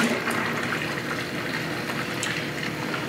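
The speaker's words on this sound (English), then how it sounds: "And then dump them in" Spring water pours from bottles into home-brewed beer wort in a continuous, fairly loud gushing splash that holds steady throughout, close by and with no talking.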